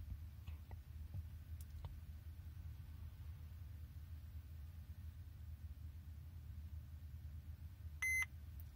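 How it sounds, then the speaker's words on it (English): Single short electronic beep from a 2011-onward Mercedes Vito dashboard during a service indicator reset, sounding near the end over a steady low engine-idle rumble, with a few faint clicks earlier. "It'll take about 20 seconds as you'll hear a beep."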